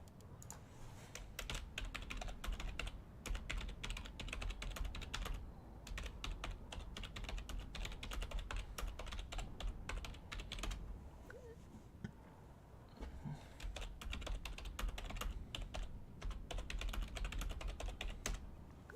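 Steady rapid typing on a computer keyboard runs throughout, dense clicking keystrokes close and fairly loud, with only a brief lull midway and no talk over it.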